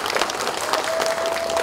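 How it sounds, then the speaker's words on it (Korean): An audience claps after a lecture, a steady, dense wash of applause filling the hall at moderate loudness without pause. "큰 박수 부탁드립니다."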